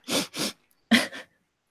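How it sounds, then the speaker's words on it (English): Two quick sneeze-like bursts, a short pause, then two more sharp nasal bursts, close and fairly loud, with no talking. "I'm about to sneeze."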